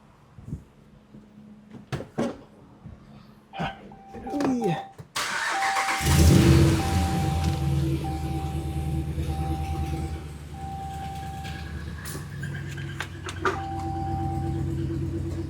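A truck engine with an exhaust leak, likely from broken manifold bolts and with a check engine light on, starts after a few clicks and knocks, then runs at a steady, close idle with a rough droning tone.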